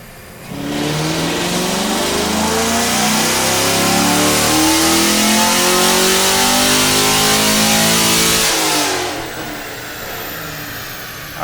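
A 2016-or-later Chevrolet Camaro SS V8 with bolt-on parts makes a loud dyno pull, climbing steadily in pitch for about eight seconds before the throttle drops back to a rumbling idle.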